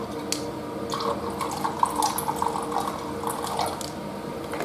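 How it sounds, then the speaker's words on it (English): Apple juice poured into whisked eggs for homemade carp boilie bait, a steady close trickle of liquid splashing into the bowl, with no talking. "And then to the eggs, I'm going to add a little bit of apple juice."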